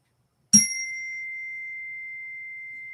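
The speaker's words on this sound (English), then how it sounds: "Oh, wait, I got the gong thing too." A small gong is struck once. A sharp metallic hit opens into a bright, clear ring that holds and slowly fades over a few seconds in a quiet room.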